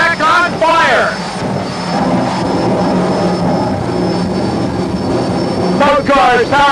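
Two jet-powered drag cars with Westinghouse J34 jet engines and afterburners race down a drag strip with a loud, sustained roaring whoosh, and an announcer talks over the noise at the start and end.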